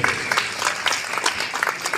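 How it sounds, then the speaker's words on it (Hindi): An audience at a school wrestling dangal event applauds a welcome, a thick sustained wash of many clapping hands, loud and close, with no voices standing out. "जोरदार तालियों से स्वागत कर दीजिए आप लोग।"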